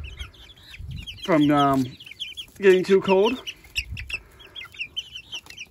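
Adult chickens cluck and squawk just outside their coop, two loud, drawn-out calls close by with softer clucks between, while a person talks briefly.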